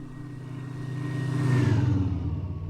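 Marchetti SF260 propeller plane in X-Plane 12 flight simulator, a steady engine drone with a high whistling tone that rises and swells toward the middle, then eases off, continuous and close with no talking.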